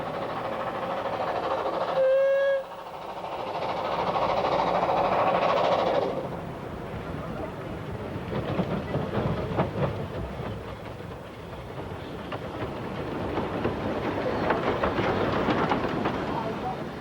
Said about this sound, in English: Irish Mail led the train in the uphill direction, using a brake valve in the cab to stop.